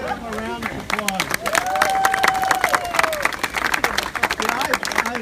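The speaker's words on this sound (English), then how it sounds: "Let's give him a round of applause." A rally crowd in Cupertino claps and cheers, the applause rising and holding steady for several seconds, with a voice speaking and an occasional melodic tone carried over the noise.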